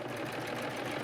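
A serger sewing machine stitches piping into a seam in a steady, continuous close-up whirr that runs unbroken from start to finish.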